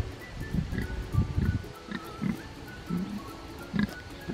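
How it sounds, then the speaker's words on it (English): Pigs on a farm grunt and oink in a series of short, low snorts scattered across the moment, fairly close, with rustling around them and no talk. "Hello, Big Pig."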